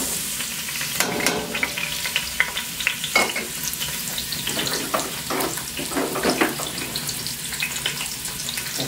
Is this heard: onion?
yes